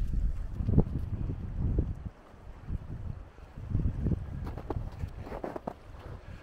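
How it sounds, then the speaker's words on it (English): Strong onshore wind buffets the microphone on a cold, icy beach, rising and falling in loud gusts with no one speaking. "the wind's coming on shore and all that ice is blowing in"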